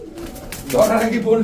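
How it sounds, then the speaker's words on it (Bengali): A pair of Sapchila pigeons at a bird market gives a couple of soft coos, one around the middle and another near the end, close by over a background of people talking. "বাইরে এক জোড়া সাপচিলা কবুতর পেয়ে যাচ্ছে"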